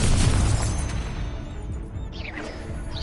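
The Expelliarmus spell in Hogwarts Legacy goes off as a loud booming blast that fades into rumble, with a faint whooshing sweep near the end.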